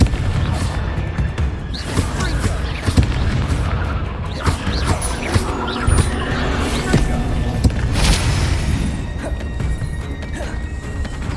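Bombarda and Confringo spells going off in Hogwarts Legacy combat on PS5: a dense run of booming blasts and crashing impacts over a constant loud rumble, several sharp bursts throughout, with no voices.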